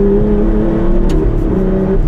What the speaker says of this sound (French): mais quelle noblesse de son moteur.